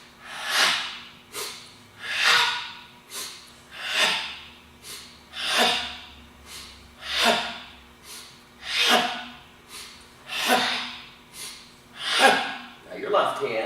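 Sharp, forceful exhalations accompany martial arts soft blocking drills, about a dozen loud breathy bursts in a steady rhythm roughly one per second, each rising and fading.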